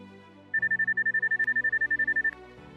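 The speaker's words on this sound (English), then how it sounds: "a chart representing the signal strength level emitted from the target with intermittent sound" A KRB metal detector gives an intermittent target signal, a rapid series of about fifteen identical short high beeps pulsing evenly for nearly two seconds over a faint background hum.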